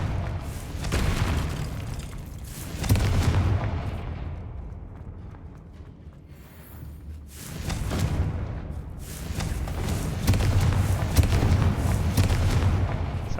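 Repeated heavy blasts from a Confringo spell in a game, deep booming explosions with rumbling debris that swell, fade to a lull, then erupt again loud and close.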